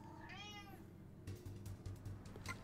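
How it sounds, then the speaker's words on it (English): A cat screams and meows, a rising, wavering yowl near the start followed by further sharp cries, heard over an electronic game soundtrack with a low steady hum. "I have a screaming cat."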